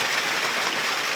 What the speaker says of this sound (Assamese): গুৱাহাটী মহানগৰীত বৰ্তমান মুখলধাৰ বৰষুণ